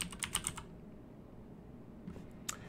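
Quick bursts of typing on a computer keyboard, a handful of crisp close keystrokes at the start followed by a pause and a couple more taps near the end, in a quiet room.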